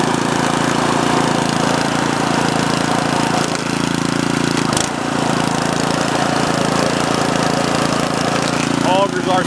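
A Sears Craftsman snowblower runs steadily with its augers spinning, a loud constant engine drone with a brief dip partway through.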